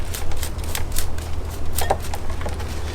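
Potting medium is peeled and pulled away from dendrobium orchid roots, producing close, dry crackling and rustling bursts in an uneven rhythm over a low background hum.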